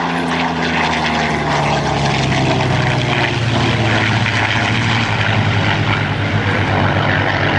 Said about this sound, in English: that's the same engine that's in the aircraft flying low and closest to us, the Mustang.